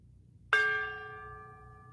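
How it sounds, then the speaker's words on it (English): A small gong pinged with a finger gives one sharp strike that rings on with a clear sustained tone, decaying slowly over a faint background hum. "There it is. The first gong."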